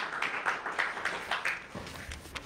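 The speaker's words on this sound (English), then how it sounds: "give yourselves a big round of applause" A church congregation claps together, a moderate, somewhat rhythmic patter of many hands that gradually thins out, heard from a short distance in a reverberant hall.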